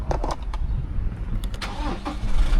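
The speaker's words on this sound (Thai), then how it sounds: "อันนี้กดปุ่มสตาร์ทนะครับ" A Toyota Hilux Revo Rocco 2.8 4WD pickup from 2021 is started with its push button, giving a short crank and a catch into a rough, close idle, with no voices over it.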